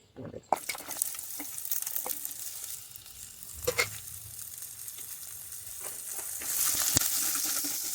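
A large onion sizzles and crackles in hot oil in a pan under occasional stirring clatter, a steady close frying hiss that swells louder near the end.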